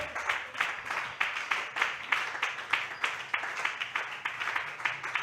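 A church congregation at a women's seminar claps in steady rhythmic unison, brisk regular beats of many hands filling the room, with a voice faintly heard under the applause.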